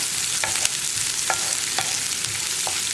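Chopped onions sauté in a pan for potato masala, giving a steady, loud, close sizzle with a few quick scrapes of stirring scattered across it.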